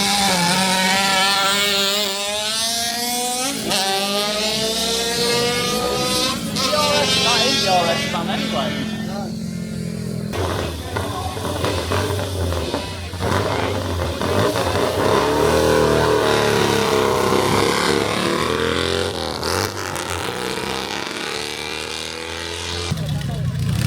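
A race car at the Prescott hill climb accelerates hard, its engine note climbing through rising revs and gear changes, loud and close before sweeping away, with a voice speaking over the engine.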